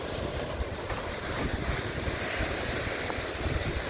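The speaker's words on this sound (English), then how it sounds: "She's kicking up waves." Waves washing onto the Lake Superior shore at Little Girls Point in Michigan's Upper Peninsula, a steady, loud surf roar with continuous wind buffeting the microphone and no voices.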